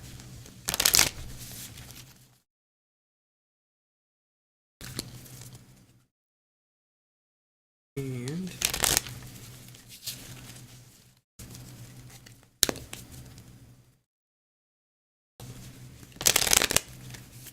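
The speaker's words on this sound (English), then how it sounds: "So I'm going to shuffle the cards right here." Tarot cards being shuffled in several separate bursts of quick riffling and flicking, close by, with silent gaps between and a brief spoken word.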